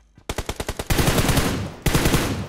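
Gunfire in a shooting video game: a rapid string of about seven loud, close shots, then sustained automatic fire, a short gap, and another burst, with no talking.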